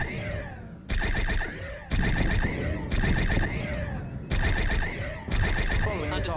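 Starship weapons firing on Klingon ships in Star Trek Bridge Crew: loud pulsing energy bursts in a series of repeated volleys, each about a second long, with brief gaps between them.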